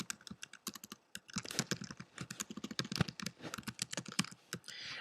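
Rapid typing of text on a computer keyboard, a dense run of close, crisp key clicks in an uneven rhythm with a few brief pauses, and no voices.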